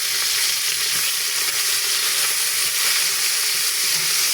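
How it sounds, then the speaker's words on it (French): Onions and garlic frying in a pan being stirred into cabbage for a stew, a loud, close, continuous sizzle with light hissing steam and scraping from the stirring, and no voices. "Maintenant, je mets les oignons et de l'ail. Tout d'un coup. Et je remue."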